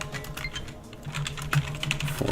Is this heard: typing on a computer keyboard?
yes